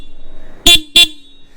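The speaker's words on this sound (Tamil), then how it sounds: "சவுண்டு கேட்குறீங்களா? நார்மல் ஆரன் தான், கீ." Two short, loud honks from the stock horn of a 2021 Yamaha FZ S Version 3.0 BS6 motorcycle sound close by, with a brief gap between them and a faint idle hum around them.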